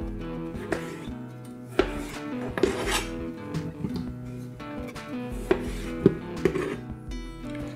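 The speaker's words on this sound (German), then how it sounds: "Die Kartoffeln, die schneide ich nur der Länge nach in Vierteln." Knife cutting potatoes lengthwise into quarters on a board, a series of sharp, irregular taps and thuds with soft scraping between them, close and clear with no talk.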